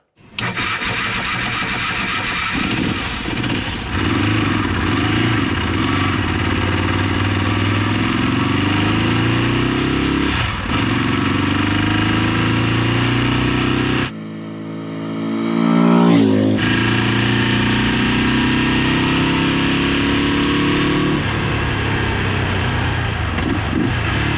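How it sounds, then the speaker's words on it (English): A 1986 Ducati Mille S2 bevel-drive motorcycle on a summer ride, its engine droning loud and steady, with a brief drop in revs and then a surge of acceleration partway through. "So let's take this bike out for a ride in our lovely summer weather."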